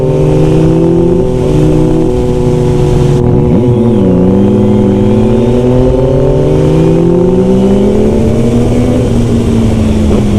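A 2021 Yamaha MT-09 motorcycle accelerating on a test ride, its engine note loud and close, rising and falling through gear changes over steady road and wind noise.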